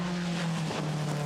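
A 1959 Lotus 15 race car with a Coventry Climax engine at a hillclimb, its engine droning steadily and loudly up close, with a brief dip and change in pitch midway as the power comes in, windy rush behind it.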